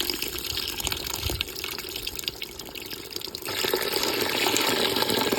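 Tamarind water pours steadily into a pot of fish curry, a continuous splashing flow that grows fuller and louder partway through, with no talking.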